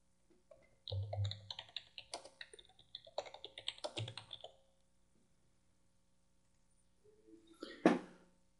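Someone types on a computer keyboard in a quiet room, a few seconds of irregular close key clacks and taps, then a pause before one last sharp keystroke.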